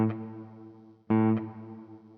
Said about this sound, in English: you can hear that waver in the reverb trails